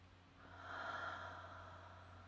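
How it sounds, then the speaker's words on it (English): A slow, deep breath out during a guided meditation, a soft airy rush that swells and fades over about two seconds, close and quiet against a low steady hum. "do a deep exhale now"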